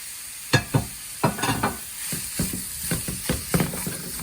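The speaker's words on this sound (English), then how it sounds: "So I'm going to add green pepper, carrot and cabbage." Green pepper, carrot and cabbage being stir-fried in a hot pan for Indo-Chinese hot and sour soup, with repeated sharp scraping strokes of a spatula over a constant close sizzle.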